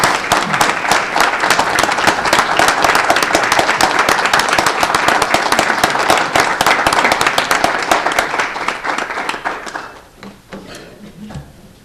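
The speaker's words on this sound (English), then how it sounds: "If we could have one final round of applause for all of our participants" An audience at a community award ceremony gives a long, loud round of applause for the participants, steady dense clapping for about ten seconds before it thins and dies away.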